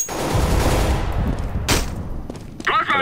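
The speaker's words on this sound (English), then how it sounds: "Grenade out!" Video game match with a grenade going off: a loud burst of gunfire-like blasts and booms, a sharp crack partway through, then a voice calling out near the end.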